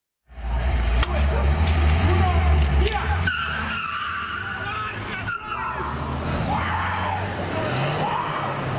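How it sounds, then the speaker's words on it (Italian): A BMW and a Ford Fiesta in an illegal street race on via Tre Venezia in San Liberale: loud, continuous engine roar with skidding, squealing tyres on asphalt, the sound shifting and surging throughout, with voices faintly in the background. "il rombo dei motori e delle ruote sull'asfalto"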